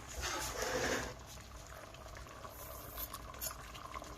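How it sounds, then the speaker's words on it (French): Tomato sauce with thyme, paprika and minced garlic simmers in a pot, giving a steady close bubbling and gurgling, slightly louder at the start. "Pendant que la sauce tomate mijote pendant 20 minutes"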